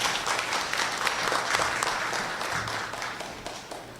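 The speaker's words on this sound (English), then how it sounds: "I ask you please to give him a round of applause." An audience at a public meeting in Trinidad on the San Fernando waterfront redevelopment study gives steady, fairly loud applause. Many hands clap close together for several seconds, and no voices rise above the clapping.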